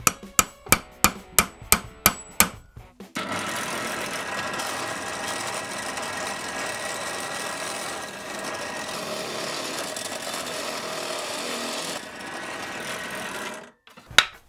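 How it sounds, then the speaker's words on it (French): A hammer drives a nail to punch pilot holes through a paper template taped onto a Tesla coil's enclosure box: about eight sharp, evenly spaced strikes, then a sustained, loud broadband noise for about nine seconds before one last knock. "faire des avant-trous avec un clou et un marteau"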